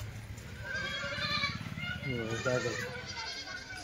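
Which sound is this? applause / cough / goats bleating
goats bleating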